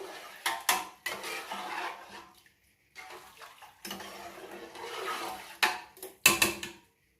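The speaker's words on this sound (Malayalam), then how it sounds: "നന്നായിട്ടൊന്ന് ഇളക്കി കൊടുക്കാം" A spoon scrapes and clinks against a pot of beef biryani in short bursts of stirring, with brief pauses between the rounds of movement.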